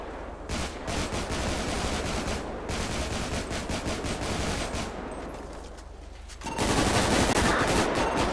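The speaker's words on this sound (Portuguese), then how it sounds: "Troca de tiro, Copom. Troca de tiro." Sustained gunfire exchange in GTA 5 roleplay during a police raid on a favela, dense rapid automatic bursts layered over each other, loud and continuous, swelling louder toward the end.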